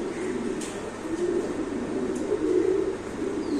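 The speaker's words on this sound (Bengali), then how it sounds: "এখানে আছে একজোড়া house pigeon, white house pigeon কবুতর।" A pair of white house pigeons at a pigeon seller's coo softly in low, steady murmurs, with faint chirps from other birds in the background.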